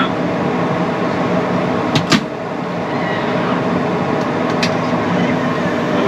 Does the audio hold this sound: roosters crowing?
no